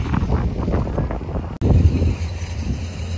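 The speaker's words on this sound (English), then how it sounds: "It is really windy" Strong wind blows across an open field being reseeded with gamma grass, roaring and buffeting the microphone in loud, steady gusts, with one brief dropout midway and no talking.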